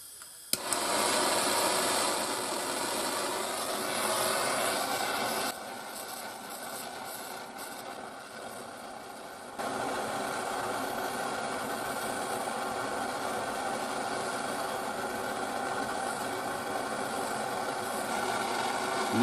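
MAP gas torch heating aluminium for solder sticks, a steady close hissing roar of flame that holds level, dips briefly quieter midway, then returns at full strength until the end, with no voices.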